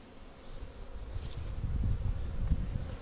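Honeybees buzz around their hive while carrying pollen, a steady, close droning hum that builds slightly over a few seconds, with no voices.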